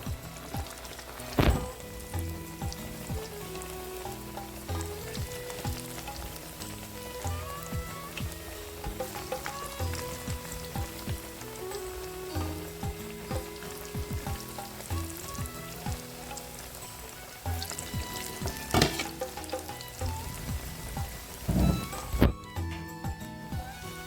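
Toor dal vadai batter fries in hot oil with a dense, continuous sizzle and bubbling, broken by a few sharp clinks of a utensil against the pan, close and steady throughout.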